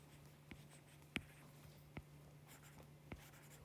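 Pen on paper writing out an electron configuration by hand, heard as very faint, sparse ticks and taps over a low steady hum, with no talk.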